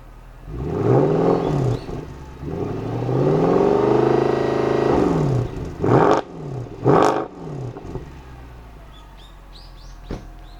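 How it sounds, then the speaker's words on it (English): Stock exhaust of a 2010 Mercedes-Benz C63 AMG revving, several rising and falling swells of engine roar, then two short sharp blips and a final quick rev, loud and close with no talk. "I'm going to show you the exhaust of this, because it is really amazing sounding compared to every other car out there"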